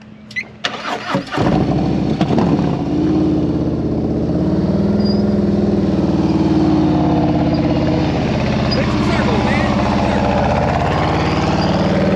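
A motorcycle engine at a riding practice session, a few clicks and a sputter before it catches, then runs loud and close with a steady, even drone for the rest of the clip.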